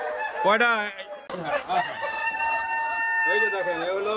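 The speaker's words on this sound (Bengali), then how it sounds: "ওই যে মোরগের ডাক আওয়াজ শুনতে পাচ্ছেন" Rooster crowing at a Sonali chicken farm, a long rising-and-falling crow near the start followed by further crowing calls, with someone speaking briefly in between.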